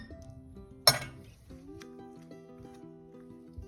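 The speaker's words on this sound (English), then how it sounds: "1 tablespoon, and just pop it inside the jar" A tablespoon of mixture drops into a glass jar with one sharp, bright clink up close, followed by faint quiet rattles and a low steady hum.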